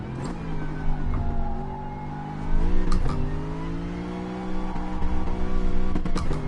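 A Gr.3 race car's engine in Gran Turismo Sport on the Dragon Trail circuit, revving steadily with rising and falling pitch as it slides through corners, loud and continuous with a few sharp shifts.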